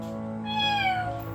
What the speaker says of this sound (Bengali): ডাক, মিয়াও ডাক।